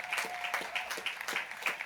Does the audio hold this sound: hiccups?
no